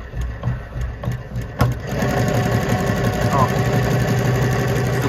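An embroidery machine starts running smoothly after its dry bobbin hook was oiled, settling into a steady, even mechanical whirr with rapid stitching rhythm; a brief exclamation and handling noises come just before it starts.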